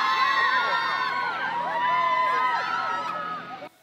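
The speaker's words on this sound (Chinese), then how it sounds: "歌迷们兴奋尖叫，高喊成员名字" Fans waiting at Kaohsiung's Siaogang Airport in Taiwan scream and cheer for K-pop girl group BLACKPINK, a loud, dense wall of high-pitched shrieks and shouted names that holds steady and then cuts off abruptly.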